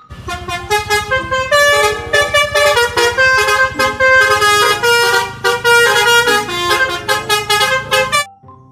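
A toy bus sounds its telolet horn in a loud, rapid melodic sequence of bright electronic tones, pulsing on and off in quick bursts for about eight seconds before stopping abruptly.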